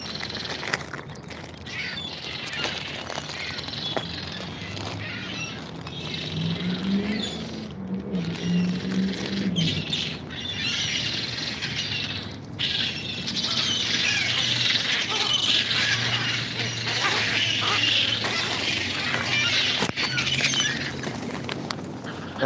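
Seagulls squawking loudly while feeding outdoors, repeated harsh calls and chatter rising and falling, with a vehicle-like rumble beneath at times.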